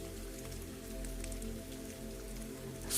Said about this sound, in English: The rain will keep watch for a while, and you may simply rest.